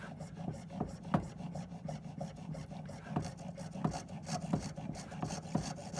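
A saw blade cuts vertically through a block of carving wax with a steady back-and-forth rasp, strokes repeating about twice a second, close and moderately quiet.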